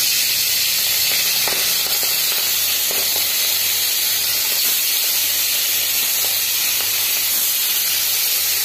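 Hilsa fish pieces dropped one by one into hot oil for frying, giving a steady close hiss and sizzle that runs throughout with a few faint clicks and bubbling pops, no talking.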